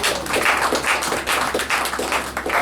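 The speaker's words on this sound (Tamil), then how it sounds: "கைத்தட்டுகள் எல்லாரும்." A church congregation at a Christmas celebration claps together, a brisk run of many hands in close, continuous rhythm with no voices over it.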